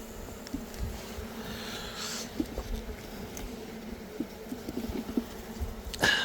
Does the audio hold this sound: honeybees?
yes